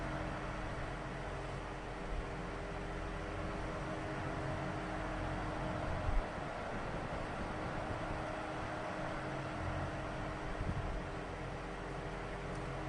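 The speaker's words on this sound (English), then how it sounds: "It's making this very loud humming noise through the motor." An Air King 9016 16-inch wall fan with seized bearings hums loudly through its motor, a steady low drone with faint tonal lines holding evenly throughout.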